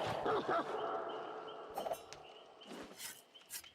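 A dog in the Dead by Daylight game gives a few short barks and yips at moderate volume, spaced over a few seconds among other soft in-game sounds.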